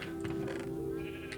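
Sheep bleating in the video game Minecraft, a single soft wavering bleat carried over a steady background hum, fairly faint and alone without talk.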